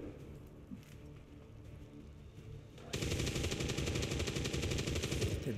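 Rapid automatic gunfire from XCOM 2: War of the Chosen, starting abruptly about halfway through and continuing as a loud, dense, steady burst over quieter game ambience, with no talk.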